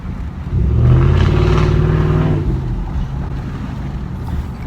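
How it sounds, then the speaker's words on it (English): A loud, deep 5.0 V8 engine in a 2015 Ford F-150 with muffler and resonator deleted revs up with a throaty, raspy exhaust growl, holds for a moment, then settles back to a rumbling idle. "it sounds like a aftermarket exhaust"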